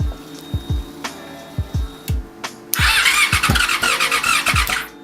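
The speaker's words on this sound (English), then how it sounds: "I haven't even tried cranking it, but I feel like it's gonna start." A 2004 Yamaha YZF-R6 motorcycle after a cylinder head replacement, cranked in a series of short, punchy starter bursts before the engine catches into a loud, close, rattling rough idle with uneven pulses, no talking.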